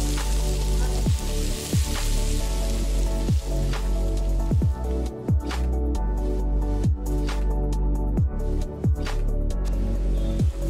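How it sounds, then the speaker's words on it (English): Eggplant pieces sizzling in a hot pan while cooking South Indian sambar, a continuous crackling fry with periodic sharp knocks and scraping from stirring, no talking. "Then I'm adding the eggplant."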